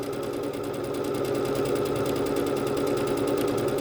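A Bernette B-77 sewing machine stitching out a fast decorative stitch, a rapid, even mechanical whir with quick regular ticking that runs steadily from start to end, close and alone.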